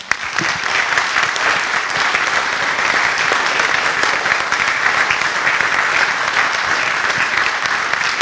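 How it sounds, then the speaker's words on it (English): An audience gives an author a sustained round of applause, an even wash of many hands clapping throughout at steady loudness with no voices standing out. "I'd just like to lead a round of applause"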